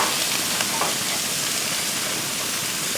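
Sausages frying on low heat in a pan, a steady close sizzle and hiss throughout with no voices.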